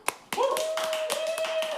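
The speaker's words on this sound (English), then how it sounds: "Round of applause, ladies and gentlemen, for Jack Remington." Brief clapping from a small group welcoming a guest onto a podcast, a few sharp distinct claps at first that swell into a fuller burst, with a whoop or cheer carried over the top.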